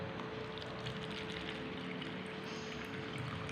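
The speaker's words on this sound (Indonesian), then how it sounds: "Lihat, Umi tuangkan airnya." Water poured from a container into a vessel, a steady continuous splashing stream that stays close and fairly loud for the whole stretch, with no speech over it.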